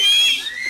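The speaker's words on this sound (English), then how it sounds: "तो एक बार कोई सीटी मार सकता है यहाँ पे?" A member of an award show audience gives one short, loud whistle that slides downward and fades within a second.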